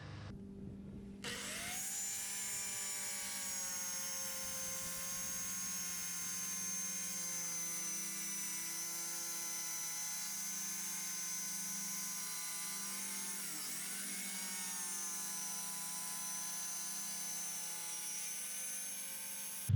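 A power saw cuts steadily through a Starboard plastic sheet being made into seat lids, a loud continuous whining drone that holds nearly unchanged for about eighteen seconds after a brief start.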